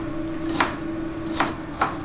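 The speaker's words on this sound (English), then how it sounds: "for this recipe, the onions need to be finely chopped" Knife chopping onions finely on a board in a home kitchen: three distinct, fairly close chops spaced irregularly over a steady low hum, with no talking.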